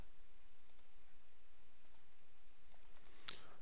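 Computer mouse clicking, a few faint sharp clicks spaced irregularly over low steady background hiss.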